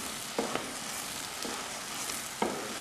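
Papaya halwa cooks with ghee in a pan, a faint steady sizzle broken by a few soft scraping stirs of the spoon; no voices.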